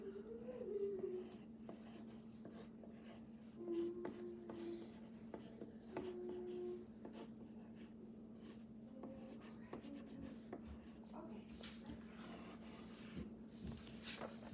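Pencil scratching across paper in short, uneven writing strokes, quiet and close, with a steady low electrical hum underneath throughout.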